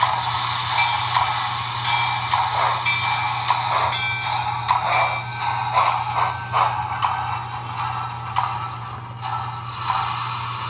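An HO scale USRA 2-8-2 Light Mikado model steam locomotive plays its sound effects on a layout: a steady low hum under a stream of rhythmic chuffs and ticking clanks, continuous and close, with no talk.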